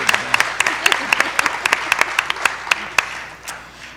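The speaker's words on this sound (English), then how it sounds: "Everybody give them a round of applause." An audience applauds a panel at a careers-in-management event, with sharp individual claps standing out over a steady bed of clapping that tapers off toward the end.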